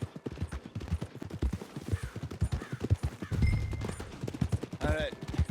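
Horse hooves clip-clop in a steady rhythm in the video game Red Dead Redemption II, running under game characters talking, with a brief whinny near the end.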